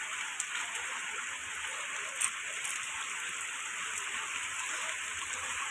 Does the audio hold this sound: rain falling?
yes